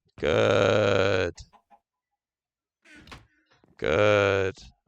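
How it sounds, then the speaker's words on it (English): Chicken clucks in the video game Minecraft come as two loud, sustained bursts at the start and end, with a brief quieter sound in between. "There's a chicken down there."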